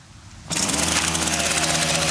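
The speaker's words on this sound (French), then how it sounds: "En raison du bruit très important que fait une tronçonneuse" A chainsaw engine sputters to life after a quiet moment, then runs at a loud, steady, buzzing idle close by.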